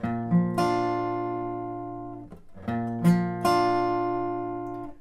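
Electric guitar picking single strings, then two strings together, repeated twice in a short phrase with ringing, sustained notes, close and clear.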